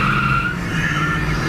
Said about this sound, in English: Little bit of wheel spin.